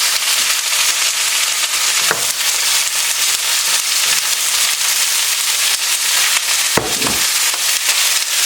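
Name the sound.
stirring cornstarch slurry into sizzling beef and broccoli sauce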